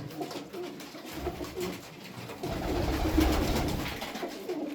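Sabuni tumbler pigeons coo in low, throaty murmurs nearby, with soft flapping and rustling in the background.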